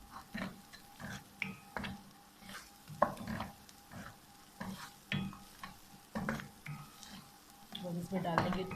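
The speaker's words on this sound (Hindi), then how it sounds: "अच्छी तरह भून लेंगे इन सारे मसालों को" Ground spices stirred and roasted in a pan for chicken jalfrezi, giving a soft continuous sizzle with scraping stir strokes; a voice talks over much of it.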